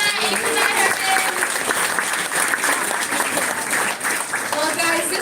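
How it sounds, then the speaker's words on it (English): An audience at an animal show at Grant's Farm bursts into sustained, dense applause, steady clapping filling the space with some voices mixed in. "you guys can give him a round of applause and say bye"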